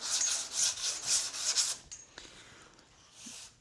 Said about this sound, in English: Ah, my favorite is sanding again.